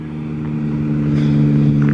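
An odd, novelty-style vehicle passing on a road where people wait for intercity buses, a loud, steady droning engine hum that swells slightly as it comes closer.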